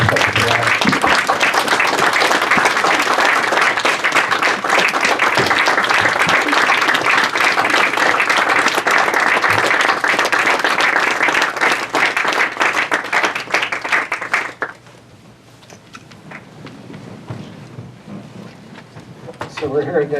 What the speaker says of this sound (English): How about if we all stand and clap for him right now